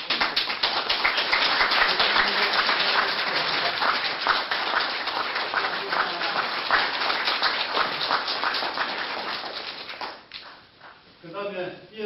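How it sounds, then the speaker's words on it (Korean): Seminar attendees at an anniversary event for Korea's five-year economic development plan give a long, dense round of clapping for a keynote speaker, which fades after about ten seconds as a voice begins speaking. "뜨거운 박수로 환영해 주시기 바랍니다"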